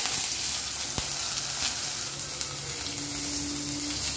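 Mustard seeds, urad dal, hing and curry leaves sizzle steadily in hot coconut oil, a continuous close frying hiss with a few faint clicks and a brief tonal hum.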